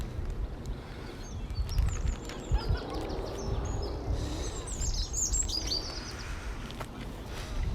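Several birds sing and tweet at once, a busy chorus of quick chirps above a constant low outdoor rumble along Willow Walk, Oxford, in March.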